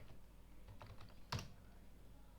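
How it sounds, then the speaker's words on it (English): A password is typed on a computer keyboard in a few soft, quick key clicks followed by one sharper keystroke, very faint and close against a low hum, with no talk. "I am typing the password."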